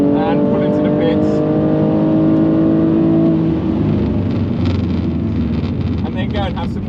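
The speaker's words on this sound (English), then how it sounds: "I'm almost out of fuel, so I'm going to do a cool down lap and pull into the pits." A BMW M2 Competition cruises a cool-down lap on track, its engine note droning steadily with wind buffeting the microphone; a voice talks over it near the end.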